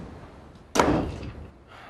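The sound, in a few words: door closing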